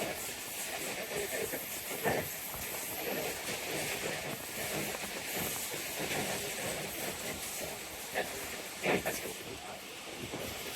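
Shalimar Express train pulling into Sheikhupura station after passing the outer signal: a steady, broad rumbling roar with hiss, and a few brief louder clanks standing out over the continuous rolling noise.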